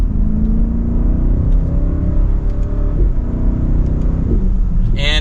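A 2025 BMW X7 M60i SUV with a twin-turbo V8 in sport mode accelerates hard, a loud deep engine rumble rising in pitch through gear changes, with a brief burst of hiss at the end.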